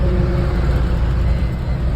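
Steady road traffic rumble on a single-lane bridge where loaded goods vehicles pass, a continuous, fairly loud low hum with no clear individual pass-bys.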